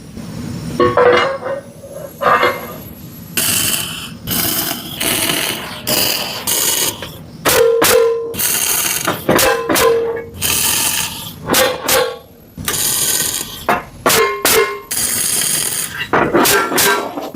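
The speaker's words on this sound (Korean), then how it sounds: "이게 지금 망치질을 하는 이유는 공간이 조금이라도 떴을 때 이렇게 태그 작업을 해서 용접이 식기 전에 이게 망치로 때려주면은 철이 쫙 달라붙어요" A hammer striking tack-welded steel parts for a rotating turntable press in a fabrication shop, loud sharp metallic blows in an uneven series with ringing tones between hits, close by and continuous.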